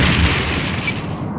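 A photon torpedo strikes in the Star Trek: The Next Generation – A Final Unity game, a loud, dense rumbling blast that fills the moment and fades slowly.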